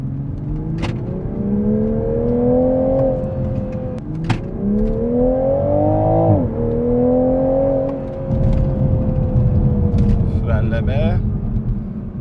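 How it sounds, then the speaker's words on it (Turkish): A 2021 Toyota Supra accelerates hard, its engine note climbing loudly and dropping at each gear change, heard from close by with a rumbling, whirring drone throughout. "Ve sırada aracı bir kez daha hızlandıralım."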